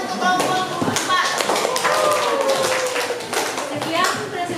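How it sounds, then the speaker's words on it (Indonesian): A classroom of students clapping for a presenting group, with quick tapping claps across the clip and children's voices talking over them. "Tepuk tangan untuk kelompok 4."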